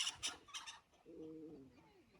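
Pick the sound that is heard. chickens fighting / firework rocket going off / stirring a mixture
chickens fighting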